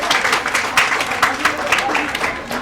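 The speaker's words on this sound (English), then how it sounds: "Please, round of applause for him." Audience applause at a school international language and arts day event, a dense steady patter of many hands clapping throughout, with some voices mixed in.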